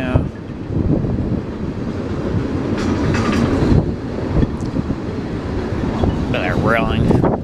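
A freight train with a DPU locomotive rolls past close by, a loud, steady rumble with rail clatter and heavy wind buffeting the microphone, while people talk in the background.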